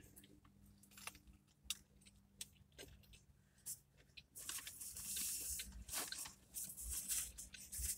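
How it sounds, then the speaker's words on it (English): Burger King Garlic Bacon King burger being chewed up close, with crisp crunching bites from crunchy bacon and garlic chips, soft and wet at first then louder and more crackly. "crunch of that bacon, that garlic chips"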